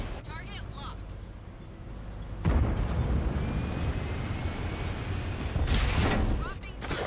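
A video-game tank shell fires and explodes, with a deep boom about midway and another heavy burst near the end over a rumbling battlefield bed, as someone talks throughout.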